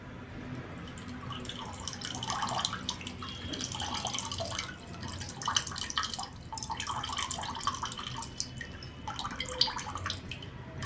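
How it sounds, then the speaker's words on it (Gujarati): Water draining from cooked greens through a slotted ladle in a home kitchen during kabab preparation, a steady close trickle and drip that runs on continuously with no voices. "આ રીતે બધું પાણી નિતારી લેવાનું બિલકુલ પાણી ન રહેવું જોઈએ"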